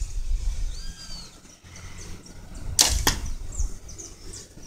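An arrow is loosed from a PSE Dream Season Decree compound bow, giving one sharp, loud, close snap of release and flight with a quick second crack, while faint bird chirps sit in the quiet outdoor background.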